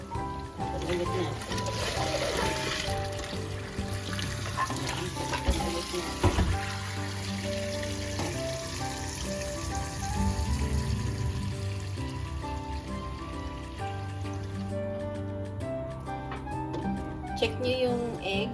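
Tap water runs into a sink over boiled eggs to cool them, a steady faint splashing stream under continuous speech and background music.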